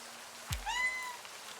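A single cat meows once in a video game scene set in the rain, a short rising-and-falling cry heard close and clear over a quiet background.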